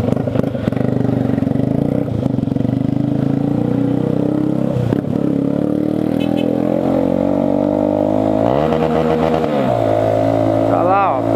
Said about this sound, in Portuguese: É muito carro, é muita moto, é muita chuva.